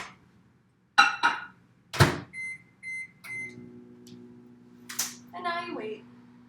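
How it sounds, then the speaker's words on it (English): A kitchen microwave oven beeps a few short times, then runs with a low steady hum while heating a bowl of butter, with a few thunks and clatters around it. "have a parent walk over to a microwave and heat this up for 30 seconds"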